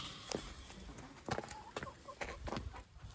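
Backyard flock of red sex links, buffs, a Brahma, Rhode Island reds and barnyard mixes in a thawing run, giving soft, scattered clucks and short calls at moderate distance, with a low background hum and no talk.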